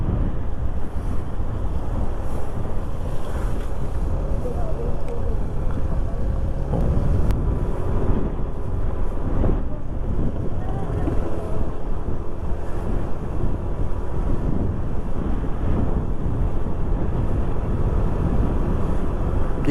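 Strong wind at a mountain viewpoint roars steadily into the microphone as a dense, continuous rumble, loud throughout with no clear speech.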